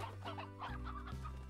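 Chickens cluck in a coop in the video game Slime Rancher, a steady low-level stretch of game fowl sounds over a droning background hum, with no talking.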